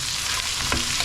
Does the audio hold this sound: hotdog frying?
yes